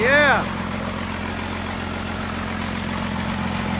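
A newly built car engine idles steadily in a shop with a low, even rumble throughout, after a short excited voice at the start.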